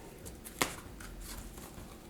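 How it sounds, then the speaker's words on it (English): Tarot and oracle cards are shuffled by hand, a single quick riffling burst close up amid faint, quiet handling noise. "3 good shuffles here."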